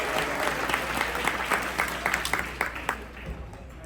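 An audience at a professionals' summit awards event in Atlanta claps in a sustained round of applause, many hands close by, gradually thinning toward the end.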